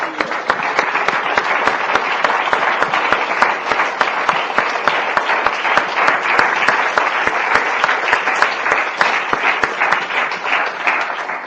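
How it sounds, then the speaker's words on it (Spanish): A church congregation claps for the Lord during a Spanish-language service, dense, sustained and loud applause that continues steadily without pause. "Le damos palmas al Señor."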